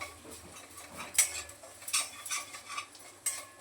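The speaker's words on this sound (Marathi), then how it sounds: "आता तेल जे भेंडी तळून राहिलेलं त्यातच कांदा वगैरे परतू." Onion being stir-fried in the leftover oil from frying okra in a kadhai: a spoon scrapes and clinks against the pan in irregular strokes, with a soft sizzle underneath and no talking.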